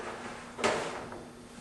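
A Lennox Healthy Climate PMAC air filter slides into the furnace air cleaner cabinet, giving one brief scraping thud near the middle, close by against a quiet room hum.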